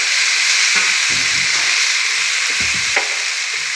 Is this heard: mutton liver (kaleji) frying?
yes